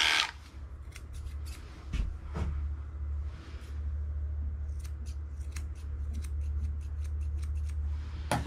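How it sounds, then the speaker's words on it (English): Scissors snip through a Shih Tzu's coat during grooming, a series of short crisp close cuts in irregular rhythm over a low steady background hum. "you've always got to get in with your scissors just to tidy things up"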